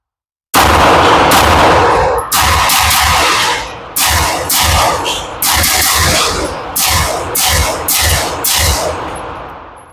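A 2011-style pistol fired at an indoor shooting range, a string of about a dozen loud, sharp reports in a steady rhythm with short gaps, each shot ringing briefly before the next, very close and with no talking.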